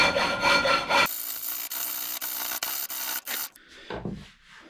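A round file is worked against hardened knife steel clamped in a vise. Rhythmic rasping strokes come close and loud in a quick series, ending with a few scattered softer scrapes.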